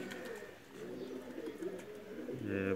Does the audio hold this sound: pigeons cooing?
yes